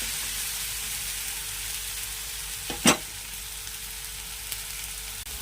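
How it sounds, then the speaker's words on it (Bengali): An onion, garlic and tomato mixture fries in a pan with a steady, close sizzling hiss. A single brief scrape of stirring comes midway. "এবার টমেটোর জলটা শুকনো হওয়া পর্যন্ত আমি একটু মাখতে থাকবো"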